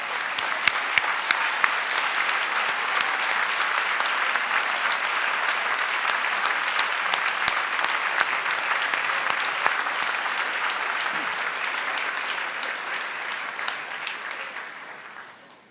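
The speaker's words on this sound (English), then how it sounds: "give a big round of applause to all of your friends and families who are here to support you" Graduates at a university ceremony applaud their friends and families, a large hall full of dense, even clapping that holds at a steady loud level for a long stretch before fading out at the end.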